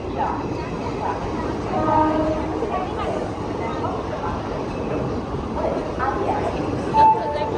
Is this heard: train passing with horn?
yes